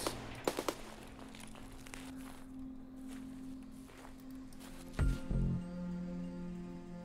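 A few sharp gunshot bursts in Escape from Tarkov, a quick cluster at the start and a heavier pair of booms later, over a quiet humming background.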